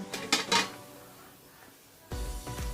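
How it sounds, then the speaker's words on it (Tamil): A metal lid goes onto an idli steamer pot holding ragi puttu, giving a couple of sharp clanks near the start, a quiet pause, then a duller knock and steady low rumble from the stove. "ஸ்டவ்வில் எடுத்து வச்சுட்டு இட்லி பாத்திரத்தோட மூடியை போட்டுருங்க"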